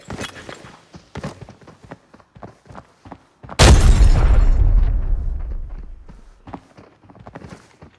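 A grenade blows up in the shooter game Arena Breakout with a loud, sudden boom and a long rumbling decay, set among quick game footsteps and clicks before and after.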